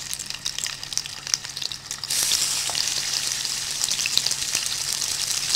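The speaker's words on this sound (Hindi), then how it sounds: "अभी मैंने ऑयल गरम कर लिया और पैटी डाल रही हूँ मैं इसमें।" A burger patty sizzles in hot oil in a home kitchen, with a soft crackle that swells into a steady, loud frying hiss after a couple of seconds, and no voice over it.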